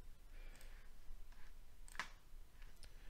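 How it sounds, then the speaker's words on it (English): A computer mouse gives a few faint, sharp clicks, sparse and irregular, against quiet room hiss. "Right click on your desktop"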